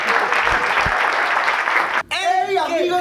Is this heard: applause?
yes